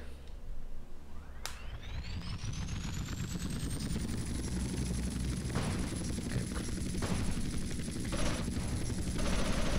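Steady whirring of a helicopter rotor and engine in GTA: San Andreas, with a rising whine that settles into a constant high tone, plus scattered sharp bursts.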